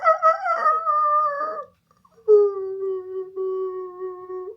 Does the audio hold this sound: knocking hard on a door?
no